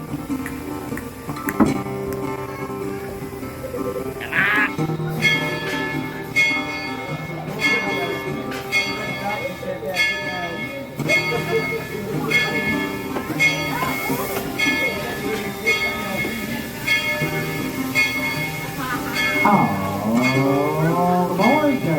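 A Tweetsie Railroad steam train's bell clangs repeatedly as it leaves the station, mixed with lower whistle-like tones and people talking nearby.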